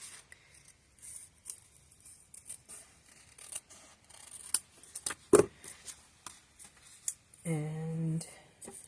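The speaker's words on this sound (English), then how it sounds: "Give this a quick trim." Scissors snip quick, close trims through paper for a handmade birthday card, a few soft cuts and rustles scattered between brief pauses, with a short voice near the end.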